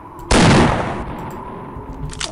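Gunfire in the Half-Life video game: one sudden, loud burst of shots that rings out and then decays into a lingering rumble, with no voices.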